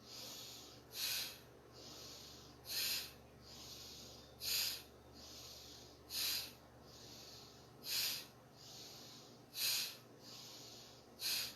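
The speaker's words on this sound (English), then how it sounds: "inhaling and exhaling into the belly through the nose" Slow, even breaths drawn in and pushed out through the nose during a breathwork exercise, about seven soft airy bursts in a steady rhythm, close but quiet with no talking.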